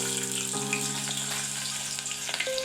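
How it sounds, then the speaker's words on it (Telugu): Chopped onions sizzling in hot melted ghee and oil in a pan, a steady close frying hiss with light stirring and faint clinks throughout, no voices. "ఈ ఉల్లిపాయలు బ్రౌన్ అయ్యేలాగా కలుపుకుందాం. మంచిగా ఫ్రై అవ్వనిద్దాం."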